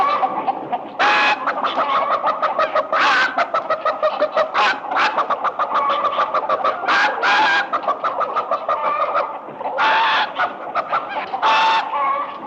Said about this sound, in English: Cluck, cluck, cluck, cluck, cluck.